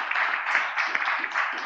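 Audience applause at an international seminar on energy economics, a dense, steady wash of clapping from a crowd that lasts through the moment without a break.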